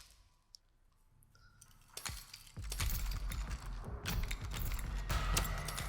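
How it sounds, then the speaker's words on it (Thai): A door creaks open in The Texas Chainsaw Massacre horror game, starting with faint clicks and mechanism creaks, then a louder grinding rattle swells and holds to the end. "เดี๋ยวเปิดประตูนี้ไปเลยดีกว่า"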